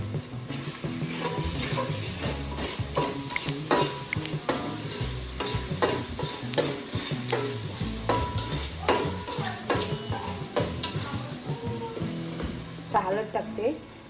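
Chicken and mutton are stirred in a pan with onion, tomato and ginger-garlic paste, village style, giving a steady loud sizzle with repeated scraping strokes throughout and no speech.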